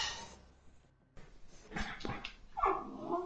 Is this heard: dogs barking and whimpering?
yes